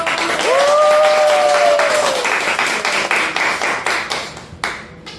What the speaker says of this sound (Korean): 크게 박수 한번 쳐볼까요?